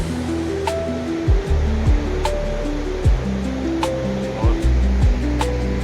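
The Ganga river flows below a narrow, rocky Gaumukh trek path near Gangotri, a loud, steady rush of water that fills the whole scene, with a brief spoken word over it.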